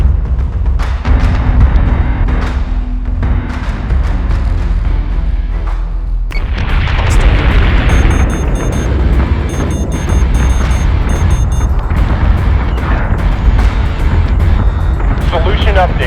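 Deep, loud booming blasts of missile explosions in the space combat game Battlestar Galactica Deadlock, heavy rumbling impacts running through the whole passage with a denser burst of detonations midway.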